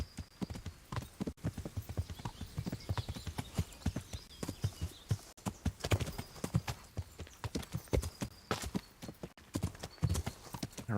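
Horse hooves clip-clopping steadily in Kingdom Come: Deliverance, a brisk, even walking rhythm of distinct hoof strikes, close and moderately loud, with no talk over it.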